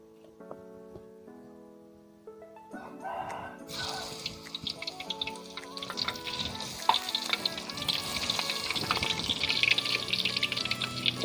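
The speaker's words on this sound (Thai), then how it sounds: "เราก็ทอดไปเรื่อยๆนะคะจนมันหมดนะคะ" Banana stem fritters deep-fry in oil, starting as a quiet tonal hum and then building to a loud, dense, bubbling sizzle with crackles and pops that runs to the end, with no voices.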